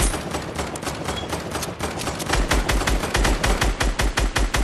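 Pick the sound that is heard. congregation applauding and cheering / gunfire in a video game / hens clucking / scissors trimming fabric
gunfire in a video game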